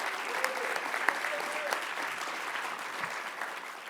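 A conference audience at a Latino Leaders Network mayors' tribute gives a quick round of applause for the event hosts, a moderately distant wash of many hands clapping, steady throughout with a few sharper individual claps.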